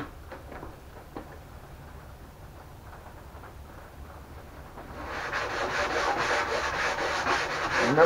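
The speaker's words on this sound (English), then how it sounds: "Remember, you are sanding foam so it can move real fast." Faint scratchy rubbing at first, then sanding gets suddenly louder and brisker, a busy abrasive hiss of sandpaper working over foam.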